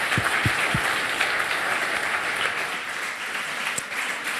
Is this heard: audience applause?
yes